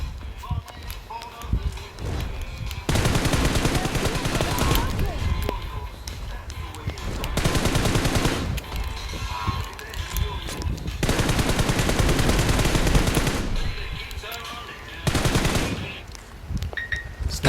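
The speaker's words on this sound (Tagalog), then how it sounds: "Sniper battle, oh." Gunfire in a video game sniper battle, loud sustained bursts of rapid shots in several long stretches, separated by quieter gaps, with someone talking over the action.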